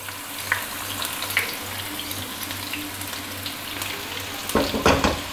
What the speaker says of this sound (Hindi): उसमें डाल देंगे हम 1/2 cup कुकिंग ऑयल, आप इसकी जगह बटर भी यूज़ कर सकते हैं। इसमें डालेंगे हम अनियंस चॉप किए हुए